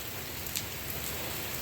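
Tropical rain falls in a steady, moderate hiss, with a few faint drip ticks scattered through it and no one speaking.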